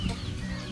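A hen with her brood of chicks clucks on a farm, giving a short, close, raspy run of low clucking sounds.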